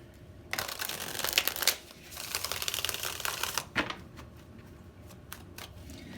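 Tarot cards being shuffled by hand, a dense papery riffle and flutter in close bursts with a brief pause between, quiet and without talk.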